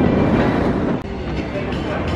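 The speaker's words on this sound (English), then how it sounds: "It's coming down for technical difficulties, but they are testing the trains." Oblivion roller coaster trains on test runs at Alton Towers theme park, a steady broad rumble of rolling cars with a faint clatter, continuous and moderately close.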